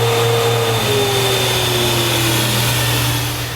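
An IMPACTS S210E 40R shot blasting machine runs close by with a loud, steady mechanical roar and whine, one high tone gliding slowly downward as the machine rolls on, with no one speaking.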